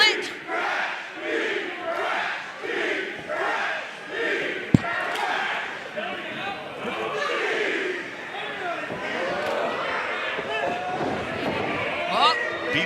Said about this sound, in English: You can hear the crowd very evenly split.